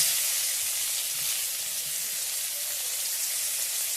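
Chopped onion frying in oil spiced with a bay leaf tempering for crab curry, giving a steady, bright sizzle that holds even and close throughout with no voices.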